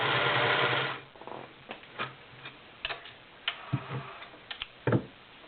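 A Singer Model 348 cam sewing machine stitching, a steady whirring run that gives way to irregular ticking and clicking of the mechanism, close and moderately loud, no talking.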